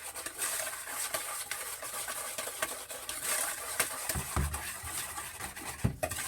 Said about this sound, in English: I'm just going to beat it with my French whisk